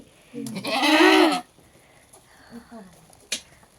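A goat out grazing lets out one loud, close bleat lasting about a second, followed by quieter scattered sounds and a brief sharp noise near the end.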